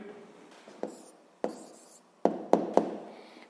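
An answer to a 7th-grade physics exercise being handwritten on paper, with soft scratching pen strokes and several sharp taps and scribbles in an irregular rhythm, close and quiet.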